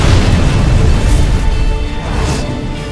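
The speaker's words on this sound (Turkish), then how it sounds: "Bomba!" A bomb goes off, a loud, deep rumbling blast that stays heavy and dense throughout, slowly easing off toward the end with no voices over it.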